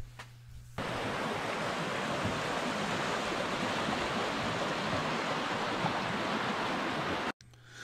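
A river rushes through a constricted channel where a rock ledge juts from the bank, a steady broadband roar of white water that starts abruptly and holds constant and close, cutting off briefly near the end.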